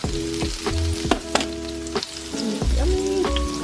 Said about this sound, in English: let's cook up this burgers. The burger's going.